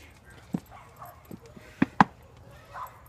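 A dog gives a few short, sparse yips and whimpers on a Fourth of July evening, soft and close, with a person speaking quietly nearby.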